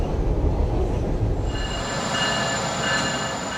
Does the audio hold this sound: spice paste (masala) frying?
no